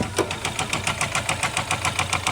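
A car engine with a badly worn, knocking engine, so loud it sounds like a tractor, clatters in a steady rapid rhythm close by, with sharp repeated knocks over a low idle rumble.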